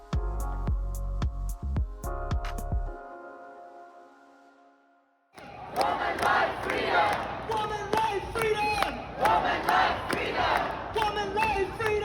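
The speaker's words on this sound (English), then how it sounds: "A crowd cheered when her plane landed" A crowd gathered at an airport arrival cheers and chants rhythmically and loudly, following a stretch of bright piano-like notes and a pause of near silence.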